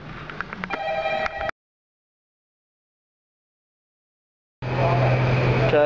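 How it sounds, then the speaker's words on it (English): A telephone ringing, a short ring of bright electronic tones at the start, then a gap of total silence, followed by a steady tonal hum with a hiss of background noise. "There's the phone now."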